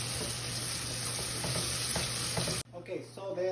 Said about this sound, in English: You're gonna add the onions and the celery at the same time. You're gonna mix it.